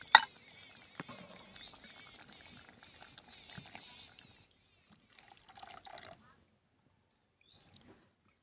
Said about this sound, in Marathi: आता यामध्ये आपण वाटण्याचं पाणी टाकणार आहोत